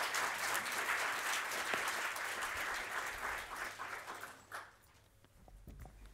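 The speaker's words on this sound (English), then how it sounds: "And another round of applause for Leon." Audience applause at the London 2018 GDG DevFest web conference, a dense steady clapping that fades out near the end, leaving a quiet room with a few scattered claps.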